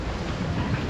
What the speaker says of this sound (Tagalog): Grabe, napakalakas tong hangin